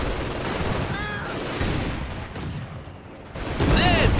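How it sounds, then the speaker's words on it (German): Mortar barrage fire in the World War II strategy game Company of Heroes 2 on an icy battlefield: a rumbling mix of distant booms and explosions with faint whistling, loud and continuous through the short stretch. "Mit den Granatwerfern Sperrfeuer aufs Eis!"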